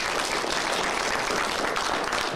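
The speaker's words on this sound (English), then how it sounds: "Give yourselves a round of applause." Packers fans in a large audience applauding at a Fan Hall of Fame event, dense, loud continuous clapping filling the room without letup.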